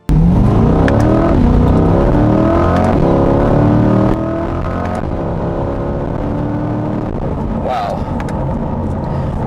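A 2021 Chevrolet C8 Corvette launches, its engine revving hard, loud and close, pitch climbing through the gears before settling into a steady roar.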